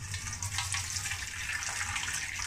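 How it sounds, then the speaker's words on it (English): Cold water runs from a tap while beetroot and ginger juice is being made, a steady, moderately loud hiss and splash that continues without a break and has no talk over it. "Water come out of the pipe cold, you know."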